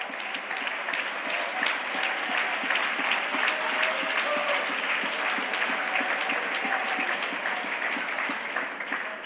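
Steady congregational clapping in a church service, many hands beating together in a fairly even rhythm, moderately loud and continuous, with faint voices mixed in.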